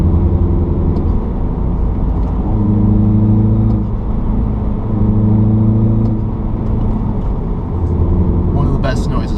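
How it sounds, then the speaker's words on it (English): A 2016 Mini Cooper S at low RPM, its turbo wastegate giving a blow-off-valve-like whoosh over a steady mid-pitched engine drone that swells and eases in waves, with a brief hiss near the end. "it uses a wastegate, but at low RPMs, it actually sounds a lot like a blow-off valve"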